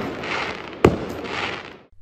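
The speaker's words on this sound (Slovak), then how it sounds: "Tu nám už búchajú petardy." Firecrackers going off on New Year's Eve: one sharp, loud bang stands out near the middle over a steady wash of distant crackling and popping, with a second fainter pop shortly after.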